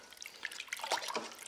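Water trickles and drips into a bowl of wholegrain wheat bread dough mixed with yeast, salt and EM, a soft, close, uneven splashing that runs steadily for under two seconds with no talk.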